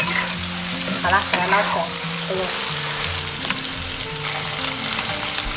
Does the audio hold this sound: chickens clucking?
no